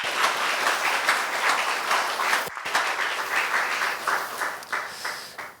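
A church congregation applauds its leader with sustained, full clapping that briefly cuts out and then continues, tapering off into looser claps.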